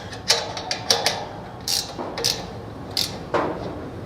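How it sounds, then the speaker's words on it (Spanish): Bolts on a satellite TV dish tilt mount being tightened with a ratcheting tool, a series of sharp metallic clicks and ratchet bursts in irregular clusters, close and fairly loud, no talking. "Estos son nuestros tornillos de inclinación, entonces los apretamos."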